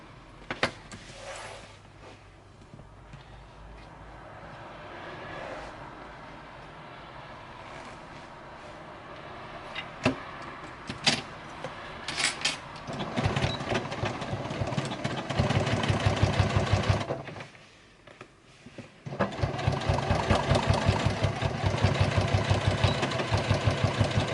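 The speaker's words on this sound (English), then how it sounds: "So we're going to squash all that out of the way and sew across that part there." Stitching across a fabric make-up bag on a sewing machine, set to a 2.8 stitch length: quieter handling at first, then two sustained bursts of the motor whirring, separated by a short pause.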